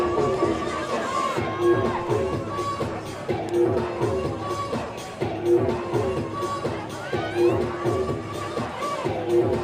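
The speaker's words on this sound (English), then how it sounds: "Crowd likes it." Crowd cheering at an ice hockey game, a broad roar of cheers and shouts rising and falling in waves over steady arena chatter, with an announcer talking throughout.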